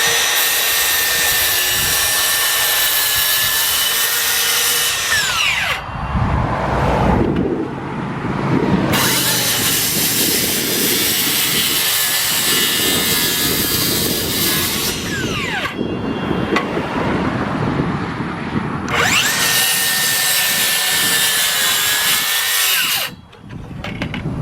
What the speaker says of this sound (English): We take a circle saw, and what I'm using is a DeWalt battery operated circle saw, 7¼ inch blade.